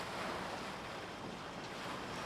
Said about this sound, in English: then take a look at the waves up ahead